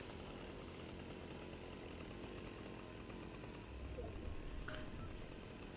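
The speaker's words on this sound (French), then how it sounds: "Oh, ça a fait un demi-tour slide avec la tronçonneuse." Chainsaw in a video game, a loud, steady buzzing drone that runs unbroken through the whole stretch with a slight swell near the end.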